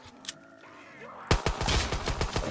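Gunfire from a loud gun in Black Ops 3 custom zombies, a burst of rapid shots breaking in after a quieter stretch and ringing out loud and close in an uneven volley.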